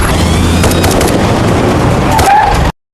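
Loud gunfire cracks in the film Black Noise amid a dense, roaring blast of noise that cuts off abruptly at the end.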